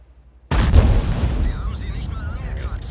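A tank gun fires a single heavy shot in a tank battle video game, a sudden loud boom that rolls into a long rumbling decay, with faint distant battle noises afterward.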